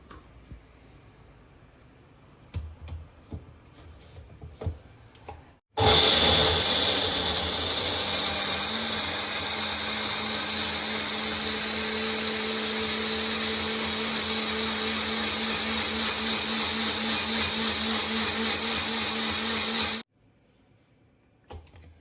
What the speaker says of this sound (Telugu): ఇది చల్లగా అవగానే మిక్సీలో వేసేసి పేస్ట్ చేస్తాను